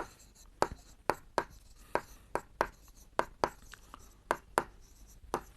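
Pen strokes on paper as a math answer about a rectangle's width is written out, a quiet series of short scratchy taps and strokes in an irregular rhythm, close and alone with no talking.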